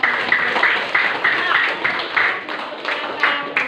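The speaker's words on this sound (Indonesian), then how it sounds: "Kita kasih tepuk tangan." Students in a classroom applaud after group 4's presentation, a dense, steady patter of many hands clapping close by, with voices mixed into the sound.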